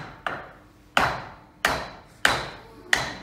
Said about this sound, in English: But if I now take my mercury hammer, which has a much higher momentum, it can generate a greater inertia when it moves